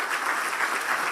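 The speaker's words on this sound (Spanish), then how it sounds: "Dale otro fuerte aplauso a nuestro Señor." A church congregation applauds in a dense, continuous burst of many hands clapping at once, loud and close, with no voice standing out.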